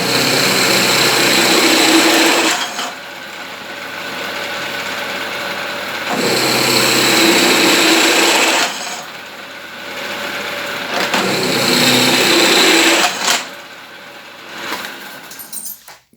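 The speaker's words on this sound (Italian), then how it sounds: "Scendiamo un po' di velocità con questa punta che è un po' più grossa" A drill runs through metal with a larger bit at reduced speed, the workpiece held in a homemade mobile vise slide; three long steady bursts of whirring, grinding drilling, close and loud, separated by brief quieter pauses where the motor idles.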